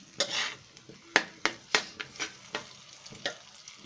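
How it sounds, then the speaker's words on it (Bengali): A spoon scrapes and knocks through ginger-garlic paste and spices frying in a pan for golda chingri bhuna, with repeated sharp clinks and stirring strokes over a soft, steady sizzle, close and fairly loud. "আমরা মশলাটা দিয়ে একটু ভালো মতো নেড়ে নিই।"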